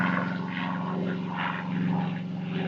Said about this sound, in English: now there's an airplane flying over